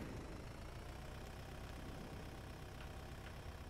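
A tractor engine idles steadily in a Roblox farming game, a low continuous rumble that holds at an even level throughout with no talking.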